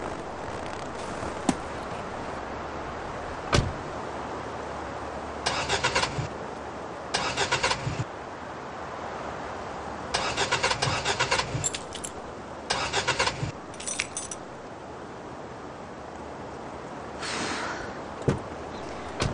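A car just back from repair is cranked repeatedly as someone tries to start it, giving several short starter bursts separated by quiet gaps, with a brief jangle of keys near the start.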